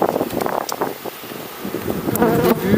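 Honeybee swarm buzzing around an open hive during an inspection, a dense droning hum with individual bees whizzing close past the microphone over wind noise.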